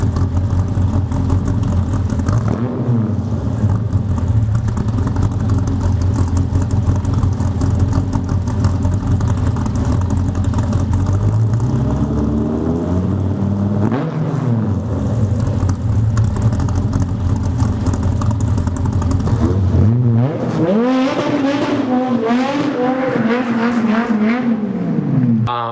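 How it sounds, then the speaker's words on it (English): A Dodge Viper's pushrod V10 with a cast aluminum block revs loudly and continuously, rising and falling through several sweeps, with a big climb near the end and no talking. "It's got this weird in-between sound, and it's a pushrod motor."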